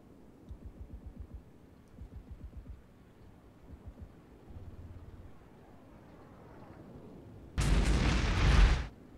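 Gunfire in the tank warfare game Armored Brigade: a series of faint, distant thumping shots spaced across the clip, ending with a loud, close burst of noisy fire lasting over a second.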